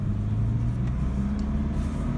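A Saab 900 Commemorative Edition pulls away on a neighborhood street, its engine giving a low, steady rumble that builds slightly as it drives off.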